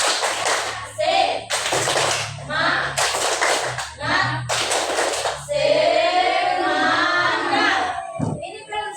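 A group does a rhythmic spirit clap in unison, with several sharp bursts of clapping separated by short pauses, followed by a sustained shout of voices, all loud and close.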